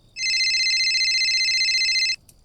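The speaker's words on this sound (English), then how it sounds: "my own phone started to ring." A mobile phone rings with one sustained burst of bright, rapidly trilling electronic ring tone lasting about two seconds. It is loud and close, then cuts off abruptly into near silence.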